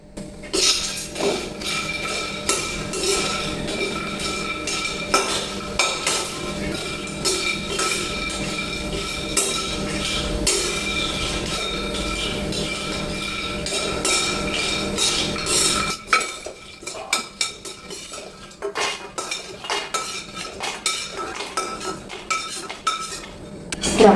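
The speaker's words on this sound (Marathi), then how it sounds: "तर आपल्याला इथं आता रामपत्री आणि जावित्री व्यवस्थित भाजून घ्यायचे." Rampatri and javitri spices dry-roasting in a pan with little oil for homemade masala, a busy clatter of a metal spoon scraping and clinking against the pan that thins out partway through, with no voices.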